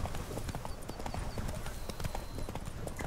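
Roach, a horse in The Witcher 3, gallops with a steady, rapid clip-clop of hooves that runs close and fairly loud for the whole stretch, with game ambience faintly underneath.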